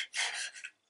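Sandpaper rasps across a wooden gun stock, stripping the last of its old varnish: a single short, close, scratchy stroke that swells, holds and then fades out.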